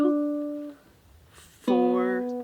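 Two plucked notes on a low-4-tuned ukulele ring out with a short gap between them, warm and low-pitched, each sustaining and slowly fading.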